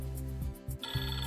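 A phone rings with an incoming call at a backhoe loader work site, a short burst of repeating electronic ringtone tones, loud and close, with no talking.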